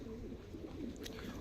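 Pigeons kept in a loft coo softly and continuously, a low murmuring hum heard faintly close by with no talk over it.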